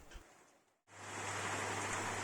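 Light rain starting to fall outdoors on an allotment garden plot, a steady broadband hiss that sets in suddenly after a brief near-silence and holds evenly, with a low constant hum underneath.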